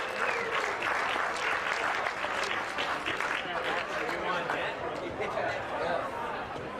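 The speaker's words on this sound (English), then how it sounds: "Give them a round of applause." Prize winners at a charity golf classic are applauded, with a steady patter of clapping from a small crowd and some chatter and cheering mixed through it.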